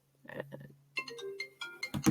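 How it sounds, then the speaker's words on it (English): A phone rings with an incoming call, a quiet, short series of electronic tones and chimes heard close by and alone. "would you look at that phone call?"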